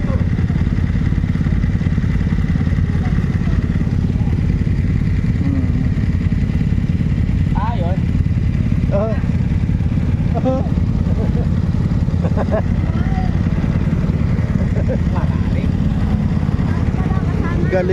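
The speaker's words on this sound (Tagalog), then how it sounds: "galing ng mga motor, oh." Motorcycle engines, including a BMW, rumble steadily as they pass nearby, with a constant low traffic drone and faint voices mixed in.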